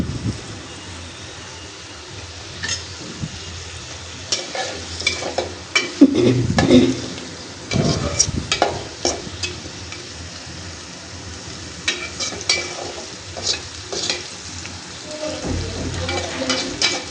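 Prawns fry with spice paste and green chillies in a pan, a soft continuous sizzle under repeated spatula scrapes and stirring clatter, moderately close and without talk.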